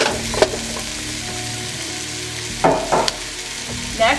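Pumpkin, onions, garlic and curry are stirred in a pot over steady background sizzling, with a few sharp spoon scrapes and clacks, the loudest bursts coming near the end.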